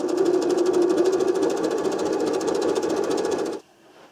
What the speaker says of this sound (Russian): Подшивать верх и низ я буду 13-й вот такой строчечкой. Очень эластичная, хорошая строчка.